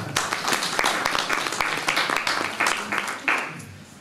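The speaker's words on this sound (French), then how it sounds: "Vous pouvez applaudir." Audience at a bullfighting club's general assembly in Clarensac breaks into steady applause, many hands clapping densely and fairly close for several seconds, thinning slightly at the end.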